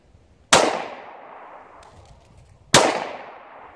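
Two sharp pistol shots from a German P08 Luger ring out about two seconds apart, each a loud crack followed by a bright, decaying echo, with a faint metallic clatter between them.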